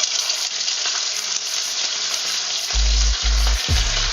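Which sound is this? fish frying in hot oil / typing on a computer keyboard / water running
fish frying in hot oil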